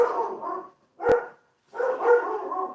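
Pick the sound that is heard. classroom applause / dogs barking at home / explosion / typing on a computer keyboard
dogs barking at home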